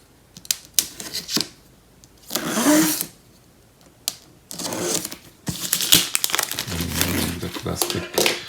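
Plastic cover being pulled off an Alfred DB1 smart door lock box, crinkling and rustling in several bursts separated by brief pauses, loud and close.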